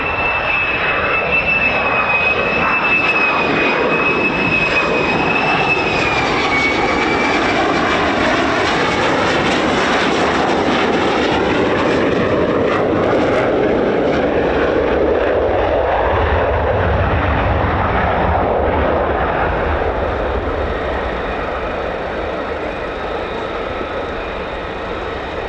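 A military jet, likely an F-15, arrives at RAF Lakenheath with a loud, sustained roaring engine noise, whining high then deepening into a heavy rumble as it passes nearby and fades slightly.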